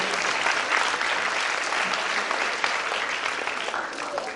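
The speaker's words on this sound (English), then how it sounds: "let's give the 16s a big round of applause" A live audience applauds a pair of quiz contestants, a dense, steady wash of clapping that holds loud and even throughout, easing only slightly toward the end.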